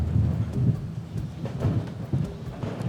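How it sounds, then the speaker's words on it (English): Thunder from an approaching storm near a floating seafood restaurant in Krabi, Thailand, rolls as repeated low rumbles under a steady wash of rain, moderately loud and without voices. "The storm's coming."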